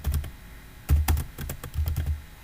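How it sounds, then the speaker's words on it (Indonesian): Fingers type on a computer keyboard in irregular quick bursts of close, crisp key clicks with short pauses between. "jadi di sini kita ketik jumlah kendaraan"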